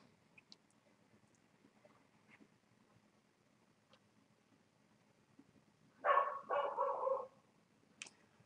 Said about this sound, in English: And my dog started barking.